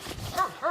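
A black and white hunting dog on a hog hunt gives two short, sharp barks, moderately close, against rustling outdoor background.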